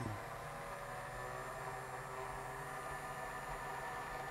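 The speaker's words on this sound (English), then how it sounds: "And now that motor is really humming." A small DC motor driven by an S6E2GM (FM4) board under a light sensor gives a steady, even, faint hum with a whiny tonal edge that runs continuously and does not vary, and no voice is heard over it.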